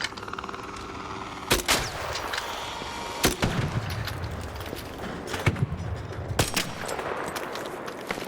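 Gunfire in a video game: several sharp, loud shots land at irregular intervals, some in quick pairs, over a steady background rumble.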